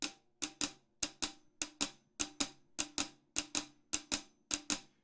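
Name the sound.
drums playing a blues double shuffle rhythm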